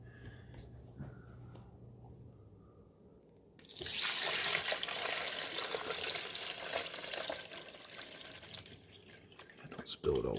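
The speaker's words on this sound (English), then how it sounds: "We got to put our water in." Water pours steadily in a loud, splashy stream into a Mr. Coffee DRX23 coffee maker reservoir after a few quiet seconds, close by, running for several seconds before stopping abruptly.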